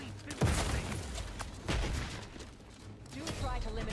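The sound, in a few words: gunfire in the video game Outer Worlds 2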